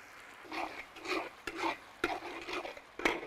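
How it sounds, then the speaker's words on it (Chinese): Doubanjiang chili bean paste is stir-fried in oil in a wok with ginger and garlic, the spatula scraping in steady rhythmic strokes over a faint sizzle. "2瓢豆瓣酱炒出红油"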